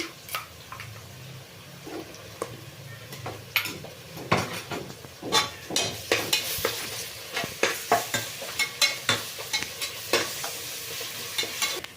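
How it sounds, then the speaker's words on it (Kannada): Ginger garlic paste frying with onions in a pot for avarekalu pulao, a steady sizzle under a run of rhythmic spoon scrapes and clinks against the metal, growing busier toward the end, with no talking. "ಈಗ ಶುಂಠಿ ಬೆಳ್ಳುಳ್ಳಿ ಪೇಸ್ಟ್ ಫ್ರೈ ಆಗಿದೆ"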